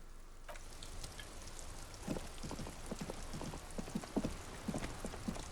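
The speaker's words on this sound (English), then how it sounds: "This rain will not let up anytime soon." Rain in Disco Elysium video game, a soft steady patter with scattered irregular drops and taps growing denser, faint and close, with no voices.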